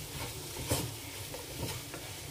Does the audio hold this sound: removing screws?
no